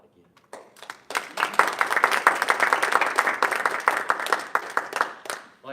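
An audience at a Toastmasters meeting breaks into applause, clapping building quickly to a sustained round of many hands, then tapering off near the end.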